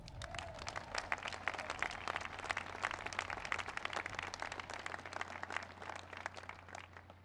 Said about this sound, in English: so give them all a big round of applause.